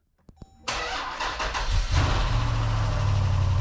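Project car engine cranking and catching after sitting unused for a long time, a few faint clicks, then a sudden start settling into a steady, loud idle close by.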